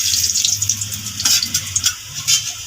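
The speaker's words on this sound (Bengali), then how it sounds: "প্রথমে আমি জিরে ফোড়ন দিয়ে দেবো, তেজপাতাটা দিয়ে দেবো তেলে" Cumin seeds and a bay leaf sizzle in hot oil, a close bright crackling hiss with small spitting pops scattered through it, no talk.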